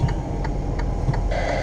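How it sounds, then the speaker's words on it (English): Truck hazard lights click in a steady, evenly spaced rhythm inside the cab while driving through a parking lot, faint under a constant engine and road rumble. "that sound you're hearing is my hazards"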